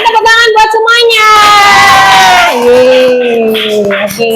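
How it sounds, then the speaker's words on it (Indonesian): A classroom of children cheering and whooping loudly with some clapping, voices sustained and rising in excitement close by, shouts dominating over the applause. "Oke, tepuk tangan buat semuanya."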